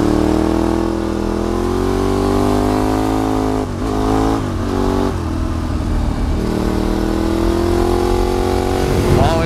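A Ducati 848 sport motorcycle's engine drones steadily and loud while riding at about 100 km/h, its pitch rising and falling slightly with brief dips in revs midway and a small surge near the end.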